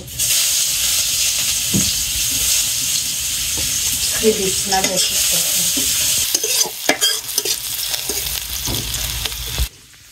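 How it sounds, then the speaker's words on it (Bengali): Onions sizzle loudly in hot oil, a steady frying hiss with occasional stirring scrapes and spatters, continuing until it cuts off abruptly near the end. "তেল গরম হয়ে গেছে পেঁয়াজ দিয়ে"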